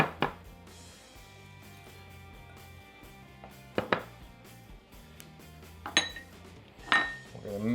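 Dry crisp-topping ingredients for a strawberry crisp being mixed in a bowl, with sparse utensil clinks and scrapes against the bowl, a few sharper knocks, close and fairly quiet with no talk.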